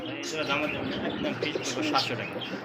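Pigeons at a pigeon market coo and chirp softly nearby in low, repeated calls, faint beneath a murmur of background voices.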